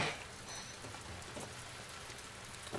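Soft, steady rainfall patters outside a theater in The Last of Us Part II, a faint continuous hiss of drops without any voices over it.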